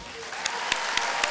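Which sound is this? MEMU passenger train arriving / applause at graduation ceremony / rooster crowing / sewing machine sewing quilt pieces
applause at graduation ceremony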